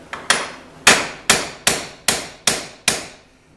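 A hammer taps a driveshaft part while an alternator and driveshaft are swapped on an Escape, Tribute or Mariner from 2001 to 2007: eight loud, close metallic strikes at a steady, fairly quick pace with brief decays between them.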